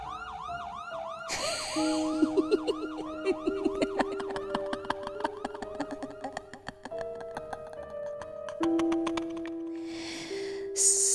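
An ambulance siren wails continuously, cycling between rising yelps and steady two-tone blasts, loud and close, with no talking.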